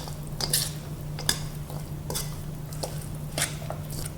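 Pomegranate seeds being stirred into a tabbouleh salad, soft wet squishes and light scrapes of a utensil in a bowl, a few brief clicks over a low steady hum, close and quiet.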